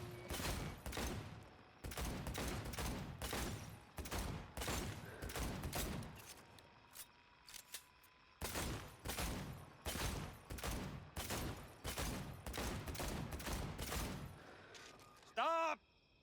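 Gunfire at a shooting range in the video game Cyberpunk 2077, a long run of loud close shots in rapid bursts with brief pauses between volleys, ending in a short ringing metallic sound.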